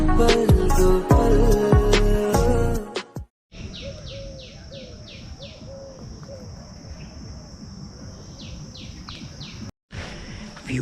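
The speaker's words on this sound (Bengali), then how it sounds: "পাখির আওয়াজটা শুনলে তো কি দারুণ লাগছে না?" Birds calling deep inside a forest near Haldia, with a steady insect and cricket drone underneath; the first few seconds carry background music before the natural chorus continues on its own.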